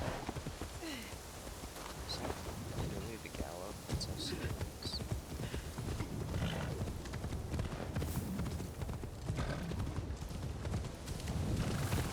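Rapid clip-clop of a horse's hooves galloping across terrain in Assassin's Creed Shadows, steady and continuous under a voice talking throughout, with ambient game sounds around.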